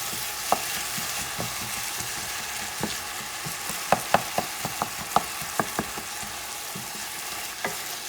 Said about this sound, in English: saute some of the stuff, by the way